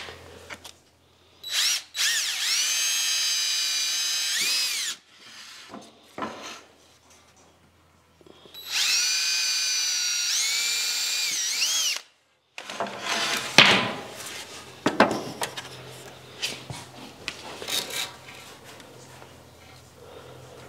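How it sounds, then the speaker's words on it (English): Power drill whirring in two long bursts, winding up and down as it pre-drills boards for screws in a workshop, followed by clattering handling noises and rustling. "So I always like to pre-drill so that our screws don't split the boards."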